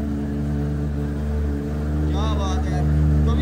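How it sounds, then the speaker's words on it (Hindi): Kawasaki ZX10R sport motorcycle engine running at close range, a steady loud droning rumble with a slight rise in revs toward the end, while someone talks over it. "बाइक स्टार्ट हो चुकी है, देख लो इसकी आवाज, साउंड कितनी ज्यादा है भाई"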